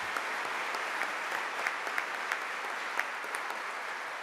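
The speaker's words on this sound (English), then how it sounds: "now we can clap for all of them." Audience applause fills an orientation panel session for parents and families, a steady, dense wash of many hands clapping at moderate distance with no talking over it.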